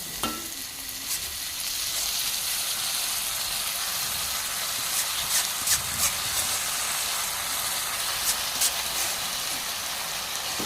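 Steamed gofan wild greens hit a hot pan of sizzling onion and chili, giving a loud, steady frying hiss throughout with a few sharper crackles and spatters, and no voices.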